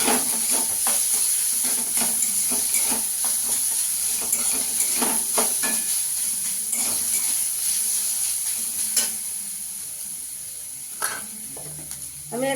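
Grated coconut frying in a pan, a soft close sizzle broken by repeated spoon scrapes and stirs, gradually quieting over the second half.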